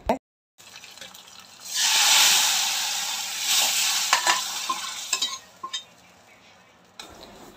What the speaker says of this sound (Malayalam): ഞാൻ ഇതിലേക്ക് കടുകൂടെ വറുത്ത് ചേർക്കുന്നുണ്ട്